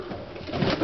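A racing homer pigeon in its loft gives a low, soft cooing burr, close and brief, with no talking.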